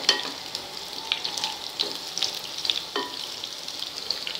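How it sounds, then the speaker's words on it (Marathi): Coriander and pearl millet muthiya stir-frying in a pan, a soft continuous sizzle with occasional sharper crackles and stirring scrapes, close and moderately quiet. "हे बघा, हे मिनिटभर छान असे आपल्याला याच्यात परतवून घ्यायचे."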